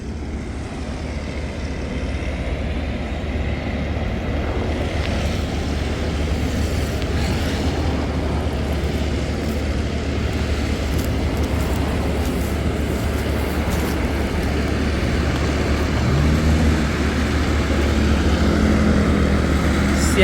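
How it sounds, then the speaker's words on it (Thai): A homemade Thai farm vehicle, a tractor-like rice-field cart, runs its engine loudly and steadily, a dense continuous drone close by with no talking. "รถก็จะดังมากนะครับท่านผู้ชมครับเสียงรถ เข้าในคลิป"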